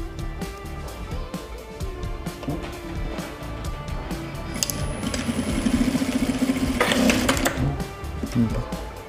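A sewing machine stitches a double-welt back pocket, its whirring motor and rapid needle chatter building in the middle to a louder steady run, mixed with clicks and handling noises.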